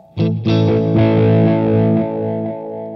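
Distorted guitar strums a few chords through a Gokko Magrane Echo Machine analog delay with the mix maxed, the echoes piling up into a thick, smeared wash that slowly fades.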